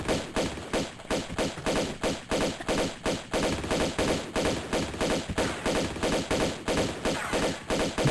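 Rapid gunfire from the video game Tomb Raider II, a dense string of loud repeated shots in an even, fast rhythm that keeps up throughout.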